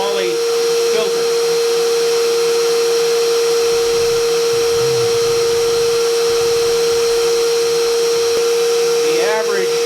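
A vacuum test rig drawing air through a moly paper filter loaded with micron talc, giving a loud, steady motor whine with a sustained tonal hum throughout.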